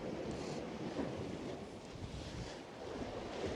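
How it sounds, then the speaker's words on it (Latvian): Wind rushes and buffets a microphone by the Baltic Sea during herring fishing, with waves rolling underneath in a steady, noisy wash. "Bišķi pa viegli vējš tāds pūš arī."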